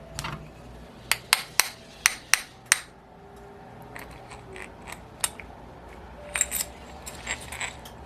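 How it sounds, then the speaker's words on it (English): A flat nose punch knocks a bearing out of a model engine crankcase, a quick run of six sharp metallic taps followed by a few scattered clinks and faint handling noise. "I'm just going to stick this flat nose punch in here and just catch one of the inner race here."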